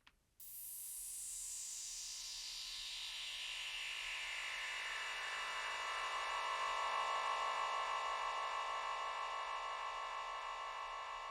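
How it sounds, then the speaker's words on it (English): A gritty, buzzing detuned unison synth tone swells in after a brief silence, sweeping downward at first, then holding steady and sustained with a harsh, dense edge. "This is a very gritty sound, of course"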